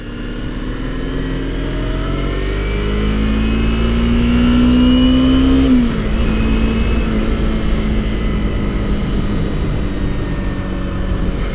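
A Kawasaki Ninja 250 sport motorcycle engine while riding, heard up close and loud: a steady whine climbs in pitch under acceleration, drops at a gear change midway, then settles into an even drone over constant wind rush.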